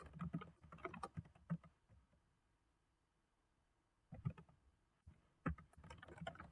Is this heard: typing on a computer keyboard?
yes